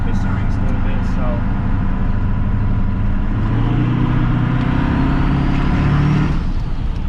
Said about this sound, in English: I feel like it spools a little easier with that cam in here.